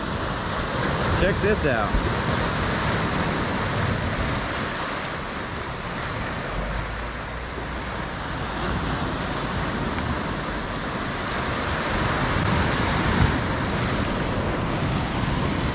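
Ocean surf at the south end of a beach in Sayulita, Mexico, heard from a high rock, makes a steady broad roar of breaking waves mixed with wind buffeting, while someone speaks briefly.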